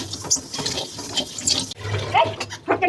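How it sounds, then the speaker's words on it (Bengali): Cold water being poured into a pot of fried rice for pulao, a splashy liquid rush with some background noise and faint clatter throughout the short clip. "এবার সম্পূর্ণ চালের মধ্যে ঠান্ডা পানি ঢেলে দিয়েছি"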